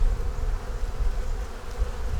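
Honeybees hum in a thick, continuous low drone at an open hive, many insects buzzing close by with slight swells in loudness and no voices.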